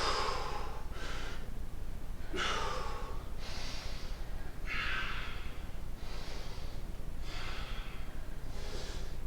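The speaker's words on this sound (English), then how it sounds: "Trying to get hold of my breathing here." Heavy, rhythmic breathing after an abs workout: repeated loud, breathy exhales and gasps at a steady pace, close to the microphone over constant background noise.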